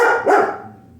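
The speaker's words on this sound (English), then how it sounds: "Sorry about the barking" A single loud, close dog bark, sharp at the start and trailing off quickly.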